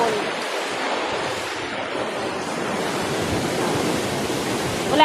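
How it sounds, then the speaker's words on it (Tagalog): Small sea waves wash against the rocks at Thunder Cave on Cape D'Aguilar, a steady broadband surf roar with some wind, continuous and fairly close, without any talk. "Hindi yan malaking alon"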